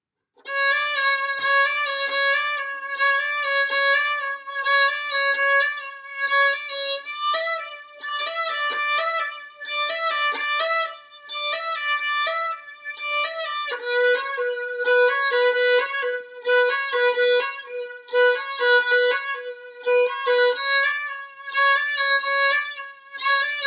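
A solo violin plays a bright, looping melody with repeated short phrases, clear and close, with no other instruments or voices.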